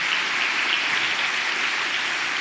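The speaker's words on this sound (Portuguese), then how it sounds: "vamos aplaudir, o Thiagão está aqui hoje" Audience applause in a church gathering, a dense, even wash of clapping that holds steady at moderate level with no voices over it.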